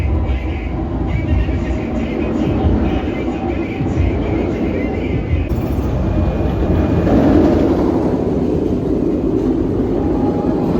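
Nemesis Reborn roller coaster test train running at Alton Towers on opening day, a loud, steady low rumble and roar that swells slightly mid-way with no voices over it.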